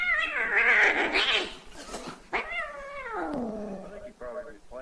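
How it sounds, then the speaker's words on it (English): A cat meowing and caterwauling up close, drawn-out wavering yowls in several bursts with rising and falling pitch, fairly loud and mostly alone. "Cat, Kobe the Kitty."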